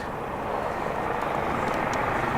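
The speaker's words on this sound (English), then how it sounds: "There's sirens, and I feel like I hear a helicopter out there or something." A steady low rumble of a helicopter in the distance over a cemetery, continuous and droning with no voices.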